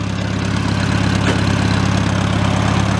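A 1952 International Harvester Farmall tractor engine idles loudly up close, a steady low throbbing rumble that stays even throughout with no talking.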